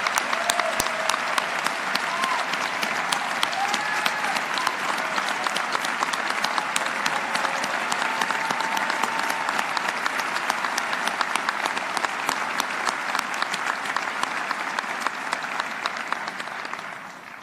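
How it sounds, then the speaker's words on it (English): Sustained applause from an inauguration audience for Mayor Reed fills the room, dense and steady with many hands clapping at once, fading slightly at the end. "please join me in a round of applause for Mayor Reed"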